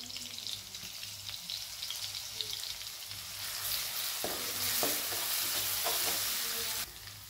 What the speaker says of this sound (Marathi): तेल तापलेलं आहे. आपण ह्यात लसूण आणि अद्रक घालून घेऊया.